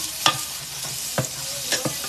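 Spices of onion, garlic and ginger sizzle in a hot pan for shrimp ginataang with jackfruit, a steady hiss broken by a few sharp clacks of a stirring utensil.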